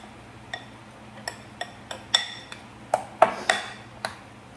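A utensil stirs salmon croquette mixture with cayenne pepper in a bowl, giving about a dozen sharp, irregular clinks and taps against the dish over a quiet background.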